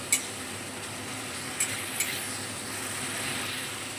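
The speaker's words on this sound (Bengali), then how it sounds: "মশলাটা খুব ভালোভাবে কষিয়ে নেব।" Spices with coriander powder frying in oil for an eggplant curry, a constant close sizzle broken by a few light ticks of a spatula against the pan, no talking.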